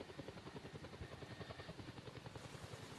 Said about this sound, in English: So there's a helicopter and 2 of them,